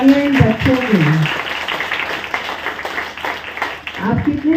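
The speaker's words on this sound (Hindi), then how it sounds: "जोरदार तालियां इन बच्चों के लिए।" Audience cheering and clapping for a children's performance at an Inner Wheel Club event in Delhi: a sustained burst of applause, with voices rising over it at the start and again near the end.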